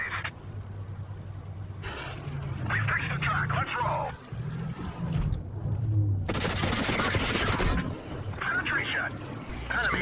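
A tank takes fire in a video game: sharp gunshot bursts and loud impacts over a rumbling engine, while a voice talks over much of the action.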